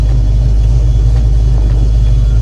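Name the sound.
Foxbody Mustang with C4 automatic transmission reversing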